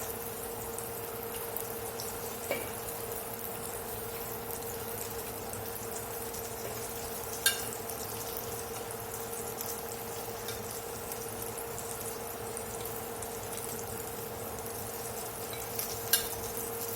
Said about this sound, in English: that's all the beef's been sizzled up